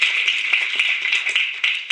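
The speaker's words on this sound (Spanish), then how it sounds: "un aplauso al Miami Improv" Live audience applause at the Miami Improv during a Spanish-language comedy festival show: a dense, steady wash of many hands clapping at close range, with a few sharper claps poking out, lasting the whole two seconds.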